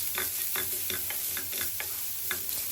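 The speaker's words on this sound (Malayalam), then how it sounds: "പിന്നെ ബീൻസ് ആഡ് ചെയ്യുക, ക്യാരറ്റ്സും ആഡ് ചെയ്യുക. എന്നിട്ട് അത് നമ്മൾ സോട്ട് ചെയ്യുക ഒരു ഹാഫ് കുക്ക്ഡ് ആവുന്ന വരെ." Beans and carrots for egg fried rice are sautéed in a pan with a steady sizzle and repeated scraping strokes of a spatula at a quick, uneven rhythm.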